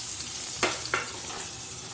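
Mango pieces frying in oil tempered with whole mustard seeds, a close steady sizzle broken by two short scraping stirs of the spatula.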